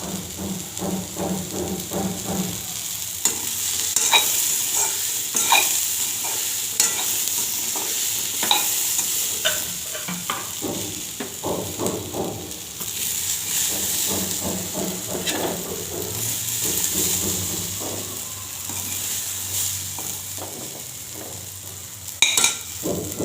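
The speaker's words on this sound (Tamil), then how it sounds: "இப்படி வெங்காயம் எல்லாம் போட்டு பிரட்டி எடுக்கும்போது சுவையாக இருக்கும்." Onions for chickpea sundal are stir-fried in a pan, giving a steady sizzle and hiss broken by repeated scraping and clinking stirs that run throughout, close and moderately loud, with no voices.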